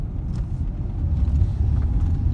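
A car engine hums low and steady from inside the cabin while braking and shifting into second gear during a driving lesson, a constant close rumble with no clear gear change standing out.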